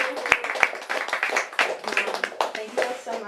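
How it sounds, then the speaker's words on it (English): Scattered clapping from a crowd, with a few sharp, louder claps standing out among voices talking and cheering. "I'm just here to facilitate one more round of applause."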